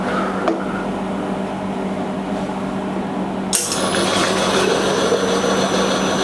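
A digital gear pump liquid bottle filling machine runs with a steady mechanical hum and whir. A sharp click just past the midpoint starts a brighter, louder whine that carries to the end.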